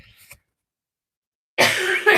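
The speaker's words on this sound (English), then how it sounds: "I got a cough." A man coughs close to the microphone: a brief faint sound at first, then after a pause of silence a loud, harsh, sustained cough burst lasting under a second.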